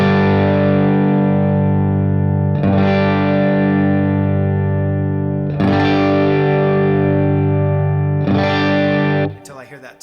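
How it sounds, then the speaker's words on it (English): Telecaster electric guitar through a Matchless amp with a barely dirty tone, strummed chords ringing out and sustaining in three loud, close strikes before a brief scratch at the end. "So that'd be like a good, barely dirty TELE tone for in the studio."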